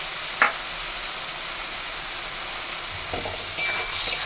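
Banana flower curry is stirred in a pan with a little water and salt added, a soft steady sizzle broken by a few brief scraping strokes of the spoon, no talk.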